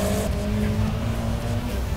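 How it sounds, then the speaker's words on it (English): A drag car launches at Santa Pod Raceway during an Ultimate Street Car event, its tyres not ready and the back end kicking out; a loud, continuous engine roar with a steady low drone fills the whole moment. "I think his tyres were not quite ready for a launch. The back end kicked out quite a bit."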